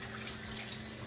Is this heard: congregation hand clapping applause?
no